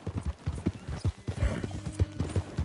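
Horse hooves clip-clopping in a western video game, a steady close rhythm of hoof strikes on hard ground with no talk over it.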